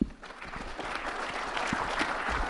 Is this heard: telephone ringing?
no